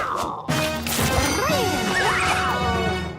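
Glass smashes in a video game with a sudden loud crash, followed by ringing, tinkling debris and sweeping sound effects that trail off over a few seconds.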